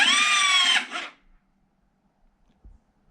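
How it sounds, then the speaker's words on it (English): The high, whirring electric starter of a 2017 KTM 250 XC-F motorcycle cranks for about a second on a fully charged battery, slows and cuts out without starting, followed by near silence and a faint low thump. "And then I tried to start it again, and now it does this."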